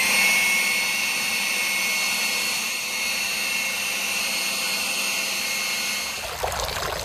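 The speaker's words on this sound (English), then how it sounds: "You can also use a blower to blow them out," A leaf blower drives out the leftover water from an outdoor fountain, a steady loud rushing hiss with a watery trickle, cutting off and settling near the end.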